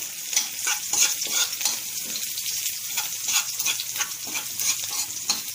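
Onion, chili and garlic sauté in a hot pan for binagoongang pork trotters: a loud, close sizzle with a constant rhythm of spatula scrapes and stirring, no voices.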